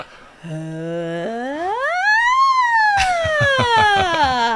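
A single voice imitates a siren, holding a low tone, sweeping up to a high peak and sliding back down, then wavering in pulses.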